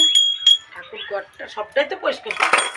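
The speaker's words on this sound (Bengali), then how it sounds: "ঠাকুরের বাসন মেজে নিচ্ছে" Metal worship utensils clink and clatter lightly as they are scrubbed and washed, scattered near metallic taps mixed with brief bits of talk.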